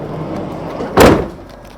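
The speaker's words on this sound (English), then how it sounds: "I slammed that door a little hard because we're on a little bit of an incline" A van's sliding door slams shut on a slight incline, one sharp loud bang near the middle after a low rolling rumble, then fading quiet.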